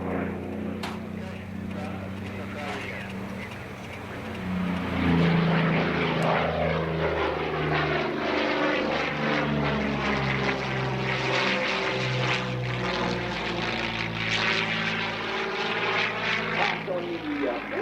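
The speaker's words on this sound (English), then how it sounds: "I'm showing you the famous amazing roll race back in the day of the P-40 right here at Fort Center." A P-40N Warhawk fighter's propeller engine roars through a roll at an airshow, loud and sustained with rising and falling pitch as it maneuvers overhead, and a voice is heard talking over it.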